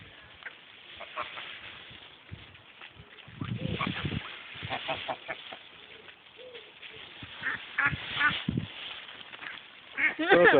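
Ducks quack in bursts with a goose honking among them, close and busy, overlapping in an irregular chorus.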